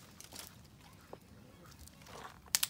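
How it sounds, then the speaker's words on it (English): Potato chips crunched and chewed up close at a campground: quiet, irregular crunches throughout, with a couple of sharper, crisper bites near the end. "You can tell you can hear me munching."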